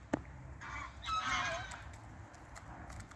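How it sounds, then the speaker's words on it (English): Distant honking from geese rises and falls over a low background rumble, faint and a little further away. "Neighbour's geese are kicking off."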